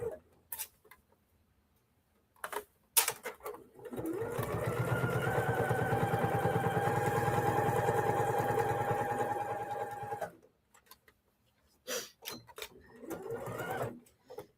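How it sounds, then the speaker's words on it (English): A sewing machine stitches a quilt bag in one continuous run of about six seconds, a close, rapid rhythmic whir, with brief bursts of handling and shorter stitching before and after. "I'm also trying to sew at the same time"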